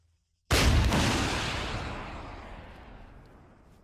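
A single sharp, heavy launch blast from an anti-tank missile with back blast in a military video game, a loud sudden boom followed by a long rumbling decay that fades over several seconds with no talk.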